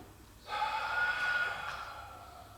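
A long, breathy exhale through a wide-open mouth with a relaxed jaw, during a gentle gym breathing exercise, rushes out steadily for about two seconds close to the mic and fades slowly.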